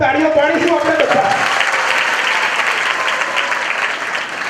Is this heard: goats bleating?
no